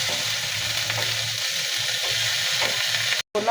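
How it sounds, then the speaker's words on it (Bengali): Chopped tomato and carrot stir-fried with chopped chili and vegetables in a pan for Thai vegetable-and-egg soup noodles, a steady close sizzle with faint stirring scrapes, cutting out briefly near the end. "দিয়ে নেড়ে চেড়ে 1 মিনিট ভেজে নেব।"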